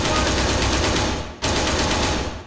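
Sustained automatic gunfire in the military shooter Arma 3 (King of the Hill mode), loud and dense, with a brief dip mid-burst before the firing resumes just as heavily.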